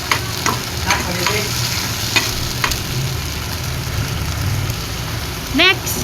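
Sardines frying in a pan while being stirred: a loud, continuous crackling sizzle with irregular scraping strokes of the spoon, and a brief rising squeak near the end.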